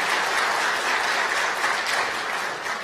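Steady applause fills a company founding-anniversary ceremony, dense and sustained from start to finish with no talk over it.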